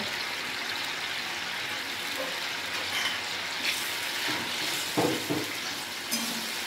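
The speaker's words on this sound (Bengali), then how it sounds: "আমি বাড়িয়েই কিন্তু ফুটিয়ে নিচ্ছি, মিডিয়ামে দিয়ে ফুটিয়ে নেব।" Fish pieces simmer in a pan over medium heat in a fennel seed recipe, giving a continuous bubbling sizzle with a few louder knocks and stirs midway.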